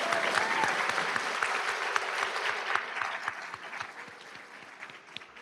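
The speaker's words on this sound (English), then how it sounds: "give the soccer club another big round of applause." Steady applause from the audience at a community college Phi Theta Kappa induction and student awards ceremony, honoring the soccer club, with some sharper individual claps standing out from the crowd.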